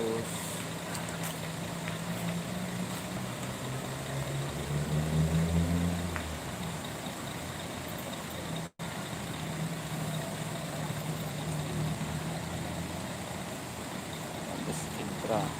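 A bus idles at a busy bus station where Sempati Star buses queue for departure. A low, steady engine rumble continues throughout, with voices murmuring in the background.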